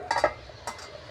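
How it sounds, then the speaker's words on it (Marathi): A metal lid set onto a pan of simmering egg curry gives a few quick clinks in a cluster, then one more lighter clank shortly after, close and fairly faint. "सगळे अंडे याच्यावर आपण आता 5 मिनिटं असं झाकण ठेवून देऊ"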